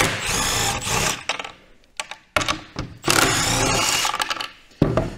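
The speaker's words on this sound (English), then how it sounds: "Take the impact gun, and in here you can see we've got the retainers for the skeg" An impact gun removing the 13 mm skeg retainer nuts on a 2023 Ski-Doo Expedition SWT snowmobile, loud close bursts of rattling whirr in several separate runs with short pauses between, no talk.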